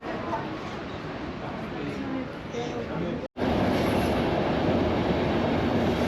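A train rushes through a tunnel at Riomaggiore station in the Cinque Terre, Italy, with a steady roaring rumble and rattling wheels, briefly cutting out before the noise returns even louder.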